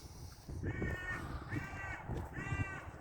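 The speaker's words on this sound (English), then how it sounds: "We've got a crow." A crow caws three times outdoors, harsh, evenly spaced calls at moderate distance over a low background rumble.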